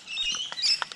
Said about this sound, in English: The birds are out today.